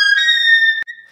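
A single sustained clarinet note, buzzy and slightly airy, with the left-hand third finger hole not fully covered, breaks briefly near the end and then continues more thinly and quieter.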